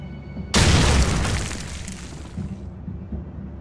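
A grenade thrown through a window in Call of Duty 4 explodes in one sudden loud boom, followed by a long rumbling decay and faint debris settling.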